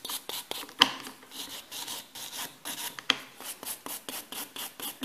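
A nail file rasps across the back transition of a decorated wedding fingernail in quick, short back-and-forth strokes. The sound is close and soft, steady and rhythmic, with a couple of small taps.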